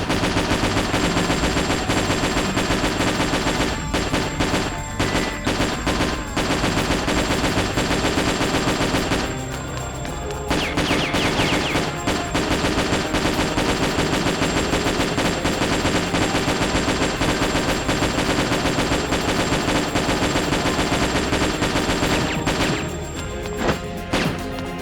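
Heavy machine gun fire in the video game Metal Slug 3D, a loud, dense, continuous rattle of rapid shots with crashes and impacts, briefly pausing a few times.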